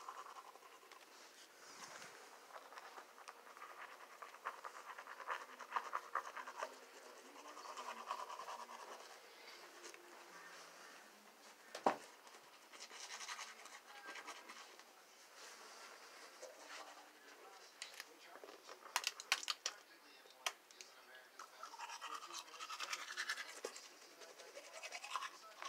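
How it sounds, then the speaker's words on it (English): Someone brushing their teeth with a toothbrush, producing soft, faint, continuous scrubbing and scratching strokes close by, with occasional sharper clicks and quiet breathing. "I'm brushing my teeth."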